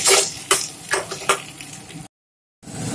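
Garlic, green chillies and onion frying in oil for a fish intestine and brinjal dish, a sizzle punctuated by several sharp utensil clinks against the pan, then a brief cut and the frying resumes.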